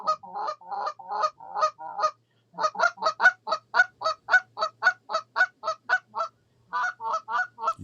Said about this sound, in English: There's a pair of geese.